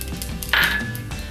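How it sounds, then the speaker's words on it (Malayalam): Fennel seeds, cinnamon and cloves drop into hot oil in a pan, setting off a sudden bright hissing sizzle that lasts about half a second before fading back to a low background. "നമുക്ക് ഈ പെരിഞ്ചീരകവും പട്ടഗ്രാമ്പും ഒന്ന് ഇട്ട് കൊടുക്കാം."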